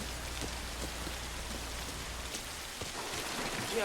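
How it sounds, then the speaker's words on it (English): Heavy rain from a scene in the 1960 film Psycho, a steady dense hiss of downpour with scattered drop impacts, continuous and fairly loud, with no talking over it. "I'm sorry I didn't hear you in all this rain."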